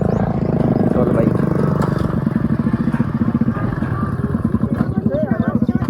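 Motorcycle ridden through a village lane, its engine putting out a steady pulsing chug close by, with clattering knocks and people talking over it.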